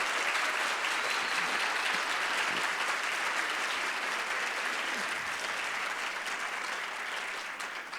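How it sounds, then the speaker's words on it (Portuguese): Sustained audience applause at a nature conservation award ceremony, steady dense clapping from a large crowd that fills the whole stretch and eases slightly toward the end. "eu peço uma salva de palmas para esse pessoal."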